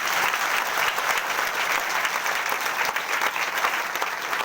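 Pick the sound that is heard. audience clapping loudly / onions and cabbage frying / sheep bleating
audience clapping loudly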